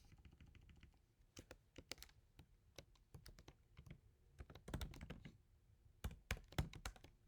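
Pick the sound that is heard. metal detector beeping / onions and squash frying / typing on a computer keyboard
typing on a computer keyboard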